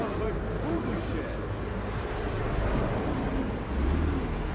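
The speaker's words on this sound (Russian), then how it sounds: "Вот эти летают с таким реактивным звуком." Flying machines in the video game Atomic Heart give off a steady jet roar, a continuous broadband rumble that holds at a fairly even loudness throughout and swells slightly near the end.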